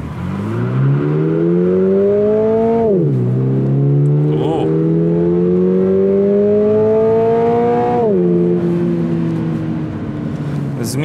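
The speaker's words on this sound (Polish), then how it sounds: "sprawdźmy, jak ten samochód przyspiesza ze startu zatrzymanego" A 2023 Toyota GR86 with an automatic gearbox pulls away from standstill in race mode, its engine revving up loudly and rising in pitch through two gear changes, heard from inside the car.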